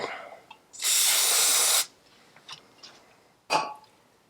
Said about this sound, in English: I'll use a bit of aerosol cleaner.